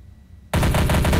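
Rapid automatic gunfire in Counter-Strike: Source bursts in suddenly after a moment of quiet, a loud, close, rattling stream of shots.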